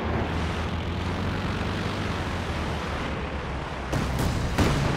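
A Ju-87 dive bomber attack in Company of Heroes 2 comes through as a dense, steady roar of engine drone and explosions, with a couple of sharper blasts near the end and no voices.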